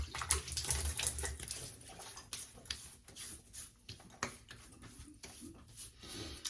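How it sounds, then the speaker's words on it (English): Water splashing and dripping as a face is wetted at a sink before a wet shave, soft irregular splashes close by with quiet pauses between them and no talking. "let me wet the face"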